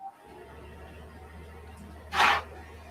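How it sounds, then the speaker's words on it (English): A man with a cold gives a single short, sharp sneeze that bursts out after a few seconds of quiet room hum. "I'm sneezing and I got to blow my nose all the time."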